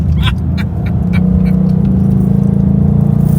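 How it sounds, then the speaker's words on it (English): A car drives by on the road, its steady engine hum building and holding loud and close, with a few brief clicks and rattles near the start. "hear that car, you hear that?"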